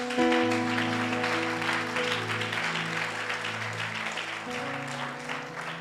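A church congregation claps in a steady wash of applause that lasts throughout, with sustained keyboard or organ chords held underneath, fairly loud and filling the room.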